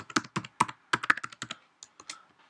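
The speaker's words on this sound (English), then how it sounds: "And you click on the padlock and you type in your password." Keys on a Mac computer keyboard are pressed to enter a password: a dozen or so crisp, close clicks in an irregular typing rhythm, with short pauses between bursts and no voices.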